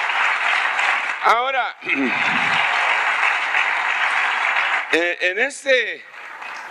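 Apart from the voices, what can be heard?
congregation applauding in church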